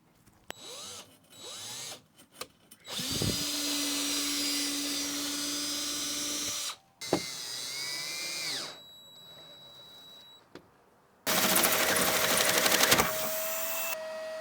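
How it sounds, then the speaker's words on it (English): A power drill bores through a camper van's metal roof for solar panel wiring in three loud whining bursts separated by short pauses and faint clicks, with no voices. "I drilled all the way down, preparing the sealed box for the insulation of wiring"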